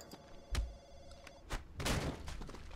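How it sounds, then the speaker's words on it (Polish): A telephone rings in the Splinter Cell Conviction video game, with a few sharp thuds and a muffled burst of game noise around the faint ringing tone. "O, telefon."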